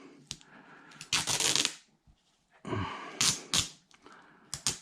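Hockey tape is torn off the roll into a strip for an RC truck's CV axle modification, with two loud, long ripping bursts separated by quiet handling noises.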